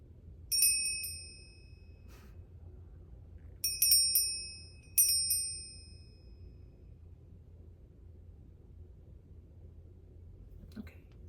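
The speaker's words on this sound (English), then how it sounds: "A little bell." A small bell rings during a quiet tarot reading, three bright, decaying chimes, the last two close together, over a faint low hum, then silence with a soft whisper near the end.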